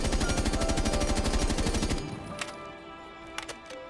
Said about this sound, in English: Ayana's and Ash's G3 pretty much only has vertical recoil as well